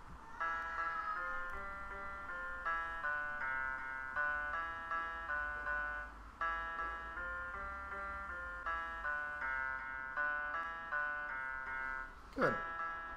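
A simple melody built in Google Chrome Music Lab Song Maker plays back as steady bright electronic notes with a low pulsing beat, moderately quiet, ending in a short sweep near the close, with no voices over it.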